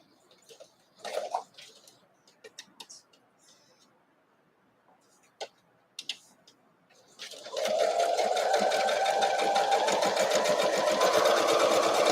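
A home sewing machine stitches quilting cotton with a dull needle. Fabric rustles and a few scattered taps come first, and then the motor starts a steady, fast, close whirring run of stitching.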